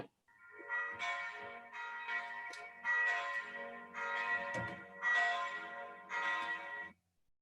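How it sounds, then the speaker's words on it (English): A bell rings out in six evenly spaced strokes, each ringing tone sustaining and overlapping slightly into the next, clear and fairly close with no voices over it. "We're going to ring our bell and light the candle."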